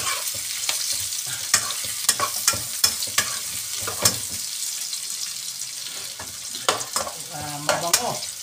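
Garlic and ginger frying in a pan, a bright steady sizzle with repeated scraping stirs of the utensil, close and loud with no voices.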